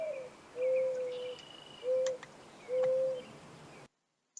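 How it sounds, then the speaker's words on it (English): A mourning dove's soft, mournful cooing: three drawn-out, steady hoots separated by short pauses, heard clearly and alone against a quiet outdoor background. "They may be named for their sad, cooing sound"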